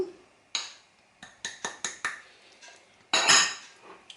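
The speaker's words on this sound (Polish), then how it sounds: "Truskawki już mam pokrojone, tak jak wspominałam, opruszam cukrem, mąką ziemniaczaną," Sliced strawberries dusted with sugar and potato starch are mixed in a bowl, giving a run of sharp clinks and scrapes of a utensil against the dish, some separate and some quick, close and fairly loud.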